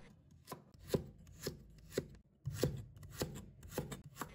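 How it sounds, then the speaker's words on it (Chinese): A kitchen knife slices carrot pieces on a chopping board, about nine crisp, close chops at a slow, fairly even pace, each a sharp tap against the board, with no voice. "再准备1条胡萝卜，把它切成小段，再切成片。"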